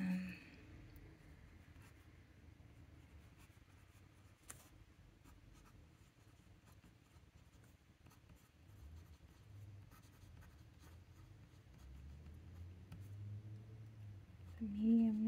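Fountain pen with a medium nib writing on paper: faint, continuous close scratching and light strokes in a quiet room.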